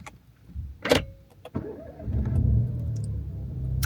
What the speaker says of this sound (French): il faut que j'allume ma voiture